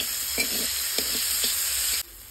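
Chopped tomato fries in a pan with a cinnamon, cardamom and clove tempering, giving a steady close sizzle with a few soft stirring knocks before it cuts off abruptly near the end.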